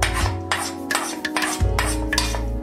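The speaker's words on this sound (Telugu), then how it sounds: "ఇలా పోపు పెట్టేసుకొని" A spoon scrapes and stirs through gourd dal in a pot after the tempering goes in, giving rhythmic rasping strokes, close and fairly loud, with dull clanks against the vessel and no talk.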